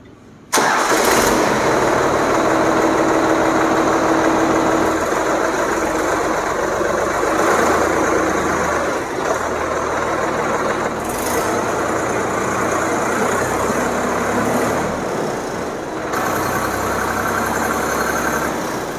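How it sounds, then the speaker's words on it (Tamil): Solis 5015 hybrid electric-diesel tractor starting up and then running steadily, a loud, close, continuous diesel engine drone that holds evenly for nearly the whole stretch, with no talk over it. "சார் இந்த வண்டி கொஞ்சம் ஆன் பண்ணி காட்டுங்க சார்."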